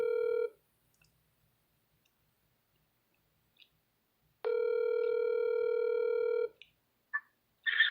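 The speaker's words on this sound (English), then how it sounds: "Let me get Brain on the phone" Telephone dial tone sounds briefly, stops, then returns for a couple of seconds, followed by short keypad beeps.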